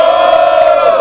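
Crowd noise at a Brazilian rap battle final, a loud, dense roar from the audience sustained through the whole second, with a bright crowd wash and no distinct speech.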